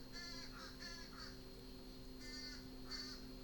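Crows caw outdoors in two pairs of harsh, moderately distant calls over a steady background hum.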